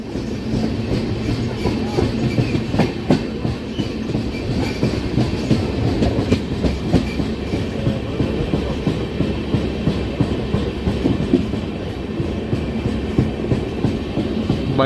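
An express train, number 17329, running on the rails between Hubballi and Vijayawada, heard from inside a coach as a steady, loud rumble with continuous rhythmic wheel clatter throughout.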